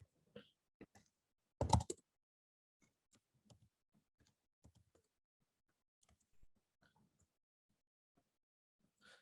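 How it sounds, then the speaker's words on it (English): Faint, scattered keystrokes on a computer keyboard as numbers are typed in, with one louder cluster of clicks near the start and sparse taps after it, in a quiet room. "We're going to type in numbers because numbers are less scary than clicking things."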